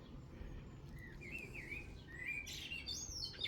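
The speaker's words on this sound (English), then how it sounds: "The little sparrow." A small sparrow chirps in short, faint tweets and trills over a low steady background rumble, the calls growing a little brighter and more frequent toward the end.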